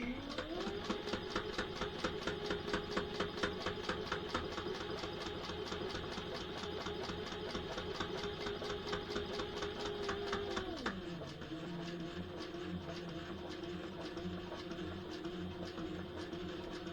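A sewing machine stitches sailboat dodger canvas in a fast even run of needle strokes, then its motor note drops and the stitching carries on at a lower pitch, close and steady.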